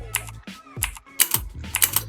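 Quick bursts of keyboard clicks in short uneven runs, fairly close and clear, with brief pauses between flurries.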